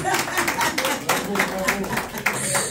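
A church congregation applauds and cheers for Jesus, with dense, steady clapping and cheering voices throughout and talk mixed into the crowd noise.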